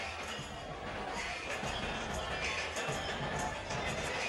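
Large boxing crowd at Freedom Hall in Louisville, Kentucky, before the Mike Tyson vs Danny Williams fight, a constant broad murmur and roar of many voices with scattered clinks, steady and loud throughout.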